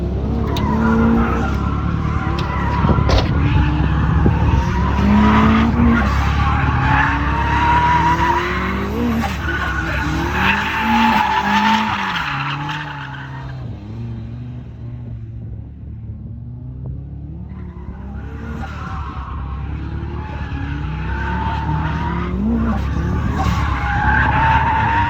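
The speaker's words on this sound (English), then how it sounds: "it happened when I went drifting with Sabas." A turbocharged Mazda Miata drifts, its tires skidding and squealing in long sweeping slides over a loud, rumbling engine that fades briefly then builds again.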